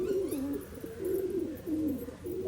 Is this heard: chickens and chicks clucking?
no